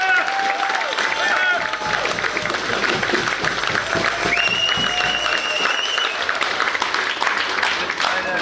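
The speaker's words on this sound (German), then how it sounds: "Vielen Dank für Ihren Applaus." Audience applause after a Schleswig Spielmannszug marching band performance at a music festival in Teterow, a steady dense clapping over a lively crowd with voices mixed in throughout.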